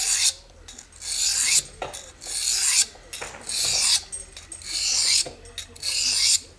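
A fine 600-grit Eze-Lap diamond sharpening stone rasps against a blade in repeated strokes, about eight close, loud scraping passes in a steady back-and-forth rhythm.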